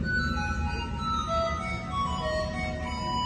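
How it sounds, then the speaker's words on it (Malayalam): A mobile phone rings with a steady electronic ringtone during a comedy skit, its tones held over a constant wash of rain and wind noise. "അതോടൊപ്പം കോളും വന്നു"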